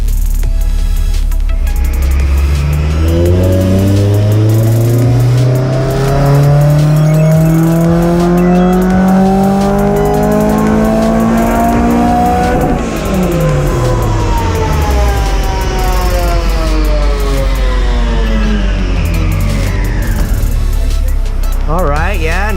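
A supercharged Honda S2000 engine on a dyno revs loudly and closely, its pitch climbing steadily to near 7,000 RPM before falling back as the throttle eases off, then rising briefly again at the end.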